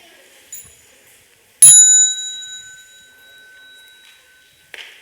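A meditation hall bell is struck once during a Dharma talk at a retreat, giving a bright, clear strike that leaves a long, pure tone ringing and fading slowly. A faint soft knock comes just before the strike, and another near the end.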